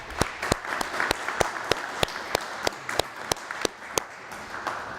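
An audience at an event at the Armory National Historic Site claps, with sharp individual claps ringing out over a steady bed of moderate applause.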